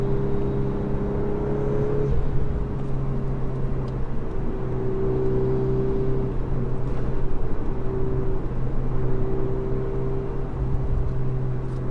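Volkswagen Golf R, the eighth-generation model, accelerating under throttle: a steady engine drone with a rising tone holds throughout at a constant close level, with no talk over it.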